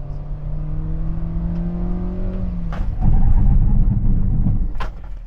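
A 2023 Hyundai Stargazer accelerating with a steady, rising engine drone heard from inside the cabin, then a deeper rumbling surge and a couple of sharp thumps as it brakes.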